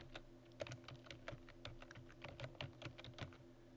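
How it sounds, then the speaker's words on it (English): Fast, light keystrokes tap out on a computer keyboard in an irregular rhythm, quiet and close, with no voices. "We're going to click in the author field and type Faith Wimpin."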